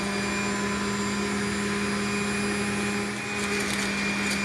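A small juicer machine runs steadily, a dense, constant motor whir with a strong hum that stays loud and unbroken throughout, close up and with no talking.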